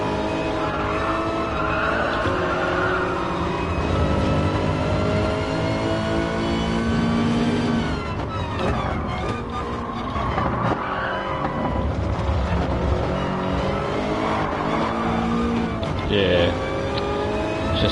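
Race car engines in the video game Gran Turismo Sport, during an FIA GTC Manufacturers Series online race, roar steadily with rising and falling revs, tire squeal and skids, and gear shifts mixed with them, while people talk over the racing.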